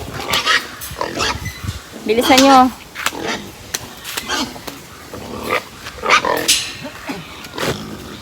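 Pigs grunt and squeal in short bursts amid commotion as they are loaded onto a truck, with people talking and calling out over the animals.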